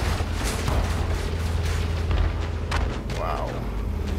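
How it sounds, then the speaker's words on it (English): Heavy booming spaceship gunfire in Elite: Dangerous rumbles continuously with a few sharper cracks, dense and loud, with a brief voice-like sound near the end. "And more gunfire still."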